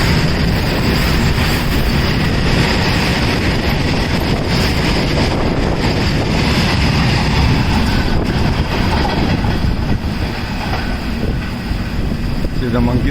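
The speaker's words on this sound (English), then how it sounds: "Lot of goods train going." A long goods train hauled by a diesel locomotive rolls past on an Indian railway line, a dense steady rumble with clattering wheels and wind buffeting the microphone, with a voice speaking over it.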